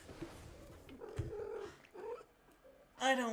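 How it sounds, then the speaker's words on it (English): A pet cat purrs and meows close by in a home, starting under a person's chatter and ending in a louder, nearer meow at the close. "I hear the kitty in the background."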